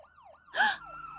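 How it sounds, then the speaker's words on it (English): An animated ambulance siren wails in repeated rising-and-falling sweeps, broken midway by a short loud burst of a higher tone before the wail carries on alone. "It's an ambulance!"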